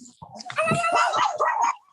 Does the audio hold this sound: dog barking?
yes